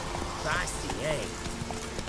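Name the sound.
horse galloping in video game The Witcher 3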